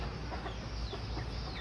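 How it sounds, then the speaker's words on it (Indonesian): Chickens cluck in a backyard coop under plants, a dense, continuous mix of close fowl calls with a constant noisy background and no talking. "berada di tengah-tengah peliharaan ayam."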